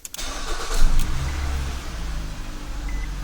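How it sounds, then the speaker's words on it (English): A 2014-2015 Nissan Rogue engine starts by remote starter: a short cranking burst, then the engine catches with a brief rev and settles into a steady, close idle. "We're going to trigger remote start by pressing and holding the single button down on our 411."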